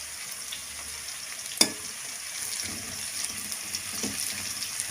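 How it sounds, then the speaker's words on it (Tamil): Green chillies, curry leaves and onion sautéing in a pan for brinjal thokku, a steady soft sizzle with one sharp clank of a spatula and occasional stirring scrapes, close and without speech. "அது வரைக்கும் வதக்கிக்கோங்க."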